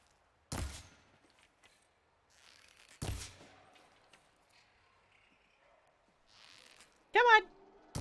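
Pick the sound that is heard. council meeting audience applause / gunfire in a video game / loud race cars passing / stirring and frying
gunfire in a video game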